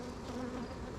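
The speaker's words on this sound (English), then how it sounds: "I'm gently blowing on this corner to kind of get the bees to disperse" Honeybees swarm on a hive frame in a dense, continuous close-up hum, steady and alone for a brief moment.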